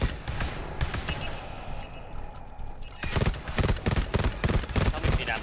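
Rapid automatic gunfire in the co-op shooter GTFO, lighter at first and then bursting into loud, closely spaced volleys in the second half, with brief speech mixed in.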